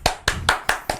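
Five sharp hand claps in an even, steady rhythm, close and crisp with no talking over them, in a casual podcast setting.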